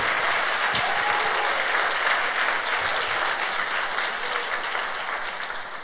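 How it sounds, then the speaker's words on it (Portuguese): A church congregation at a Sunday service applauds: full, sustained clapping from many hands, loud and steady at first, then gradually tapering off. "dê um aplauso ao Senhor Jesus"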